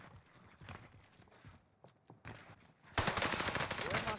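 Bursts of automatic assault-rifle fire in Warzone, the C58 rifle, cutting in loud and sustained near the end after quieter footsteps and movement sounds.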